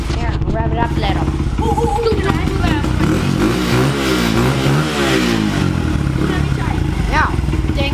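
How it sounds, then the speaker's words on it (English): Engine of a 2004 Honda CRF 100F dirt bike revving loudly and continuously up close, with rising and falling pitch, while a person talks over it. "Here, I'll rev it up a little."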